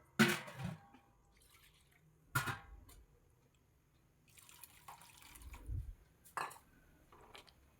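Water goes into a pot of Kerala-style ash gourd masala curry in several short separate pours and splashes, fairly close, with quiet gaps between them.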